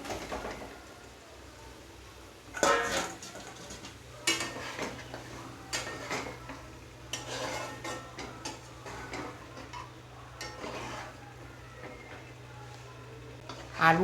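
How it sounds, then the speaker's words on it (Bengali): A pot lid is lifted and pre-fried potatoes are tipped into a pot of Mughlai aloo dum, giving a few clattering metal knocks and scrapes over a steady low kitchen hum, with occasional voice nearby. "ঢাকা খুলে আগে থেকে ভেজে রাখা আলুটা দিয়ে দেব।"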